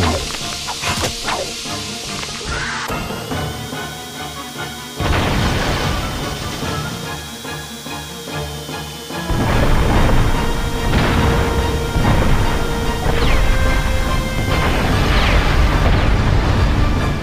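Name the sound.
explosions in video game Ratchet & Clank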